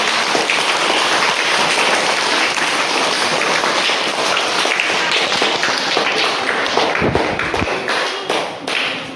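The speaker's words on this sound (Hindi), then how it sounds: "जोरदार तालियों से इनका भी इस्तेमाल कीजिए।" Loud, dense applause from a gathering at a Teacher's Day school event, many hands clapping steadily and close, tapering off near the end.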